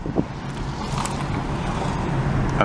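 Steady roadway rumble of cars on a busy city street near Papineau in Montreal, a continuous wash of engine and tire noise with wind buffeting, no voices.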